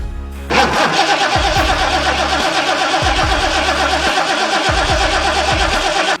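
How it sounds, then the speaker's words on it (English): A car engine cranks repeatedly without catching during a no-start fault test, the starter whirring in steady bursts with short pauses between, loud and close throughout. "it's time to have a friend crank the engine while you watch what each tester does."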